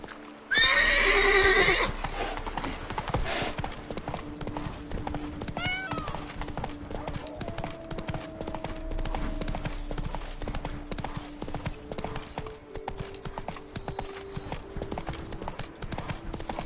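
Horse hooves clip-clop steadily for the whole stretch, with a loud whinny at the start and some music playing underneath.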